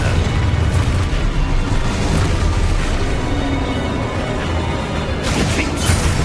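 Explosion spell cast in Hogwarts Legacy: a loud, continuous rumbling blast with bursts and crashing debris, a sharper burst near the end, no talk.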